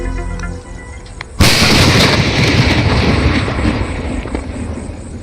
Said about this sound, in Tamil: இதான் பார்த்தீங்கன்னா மின்னல் வெடிச்ச இடி வெடி